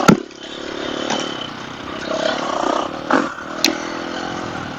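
Husqvarna FE350 dirt bike on a single track trail in Oregon, its engine buzzing and revving unevenly close up, with brief clattering knocks and scrapes from the rough ground, no speech.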